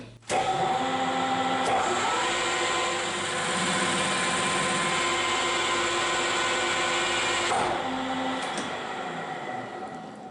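Metal lathe turning rusty, pitted soft steel at 900 RPM with a 1 mm depth of cut, a steady loud whirring machine drone with harmonic whine that runs continuously and shifts slightly near the end.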